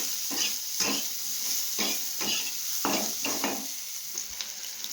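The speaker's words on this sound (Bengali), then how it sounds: "একসাথে ভালো করে ভেজে নেব" Garlic cloves and onion fry together in a pan, sizzling steadily while a utensil stirs and scrapes in repeated strokes, with no talk.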